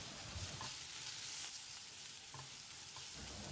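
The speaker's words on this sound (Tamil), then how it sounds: "1/4 டீஸ்பூன் மஞ்சள் தூள், 1 டீஸ்பூன் மிளகாய் தூள் சேர்த்து ஒரு 10 செகண்ட் பிரட்டி விட்டுடலாம்" Ginger garlic paste sizzles steadily in hot oil as turmeric and chili powder are stir-fried into it for a Kerala-style chicken kulambu, with a continuous crackling hiss and a few soft clicks of stirring, no voices.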